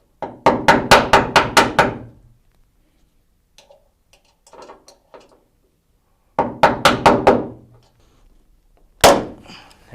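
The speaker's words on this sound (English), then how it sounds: "Now we're going to punch and then drill that hole." Rapid series of sharp metallic hammer blows on a punch against the hood of a third-generation Toyota Tacoma, two bursts of about seven strikes each, plus a final single hit, with quieter handling noises between.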